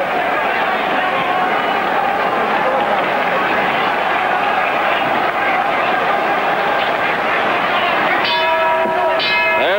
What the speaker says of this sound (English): The bell that ends the fight.